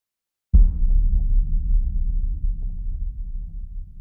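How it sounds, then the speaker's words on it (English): A big sub bass boom from music production hits suddenly after a brief silence, then sustains as a deep, loud rumble that slowly decays. "just like a sub bass boom,"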